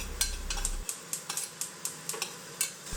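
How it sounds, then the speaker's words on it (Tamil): Onions sautéing in a pan with a pinch of asafoetida, heard as a quick series of sharp spoon clicks and taps against the pan over a low sizzle. "வெங்காயத்தையும் நல்லா வதக்கிக்கணும்."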